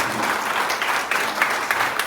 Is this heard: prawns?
no